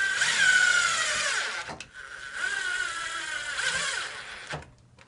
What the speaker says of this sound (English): I'm going to run my self-tapping screw right through on this middle groove on the pull bar